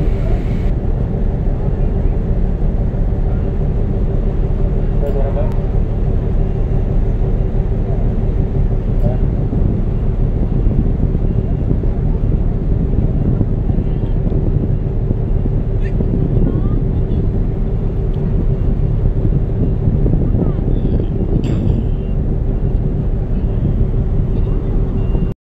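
Tugboat engine running at Zamboanga Port, a very large ship-type marine engine giving a loud, steady low rumble and hum that holds throughout, with faint voices and background activity.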